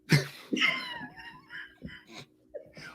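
Several harsh coughs break out in quick succession, mixed with wheezy breaths and a strained, laugh-like voice, close to the listener.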